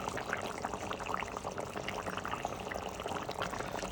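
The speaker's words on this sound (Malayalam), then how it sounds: "അപ്പോൾ ഇതെല്ലാം തിളച്ച് വന്നിട്ടുണ്ട്" A pot of Kerala-style dried prawn curry bubbles at a steady boil, giving a continuous close, fizzing rumble of popping bubbles with no pauses.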